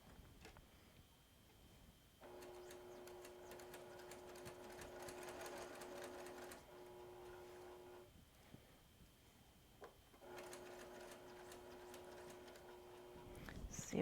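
A sewing machine stitches a quilt block in two steady bursts of rapid mechanical whirring and ticking, separated by a quiet pause with light handling sounds, recorded close and fairly quiet.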